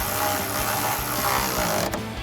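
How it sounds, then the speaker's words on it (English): Ratcheting socket wrench driving a 16mm bolt on a Jeep Wrangler JL steel side step center bracket, nut held by a 17mm wrench; a steady close mechanical clicking and rasping fills the short stretch with no talk. "switch to a 16mm socket to tighten the head and a 17mm wrench to hold the nut for the center bracket"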